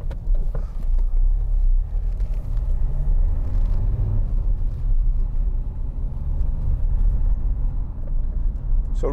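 A 2015 Dacia Duster 1.5 dCi Ambiance drives along a road, heard from inside as a constant low engine and road rumble with occasional light knocks and rattles.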